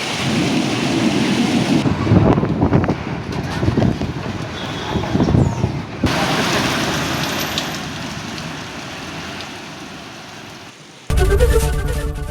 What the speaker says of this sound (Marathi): विजांच्या कडकडाटासह झालेल्या पावसाने पिकांनाही धोका आहे